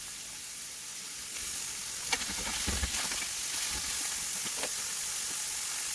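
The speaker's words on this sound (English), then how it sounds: "To my pan, I've just added some oil and our mince," Mince browning in oil in a frying pan, a steady close sizzle and hiss with a few brief crackles and stirring scrapes, no talking.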